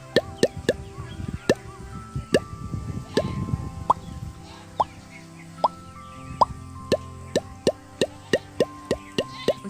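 A human voice imitates the water pipe of a newly sunk arsenic-free tubewell with a series of sharp hollow plops, rapid and irregular at first, then a steady, evenly spaced run of popping knocks, close and clear.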